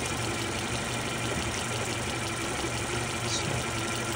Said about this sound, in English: Engine been running for like 3 hours now